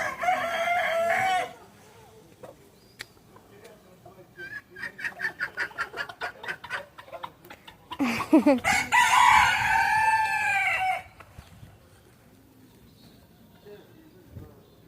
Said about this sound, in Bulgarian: Има и много кокошки и петли.